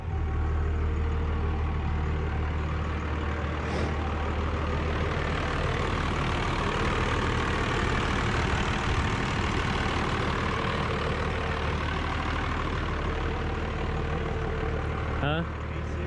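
Bone stock 12V Cummins diesel engine idling in a pickup truck, a steady low rumble with a constant even drone, fairly quiet and unchanging throughout, with a brief click or rattle near the end.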